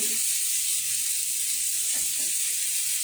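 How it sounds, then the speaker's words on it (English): Steady, hissing sizzle of meat frying in a hot pan, loud and continuous, with faint clinks underneath. "you hear that sizzling so you know it's not dry"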